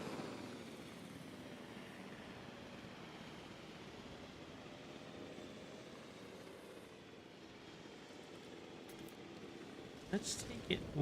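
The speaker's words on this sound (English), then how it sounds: "Oh, hello, Chopper." A helicopter in the Jurassic World Evolution 2 video game gives off a steady, moderately distant rotor and engine drone that holds throughout, with a few brief clicks near the end.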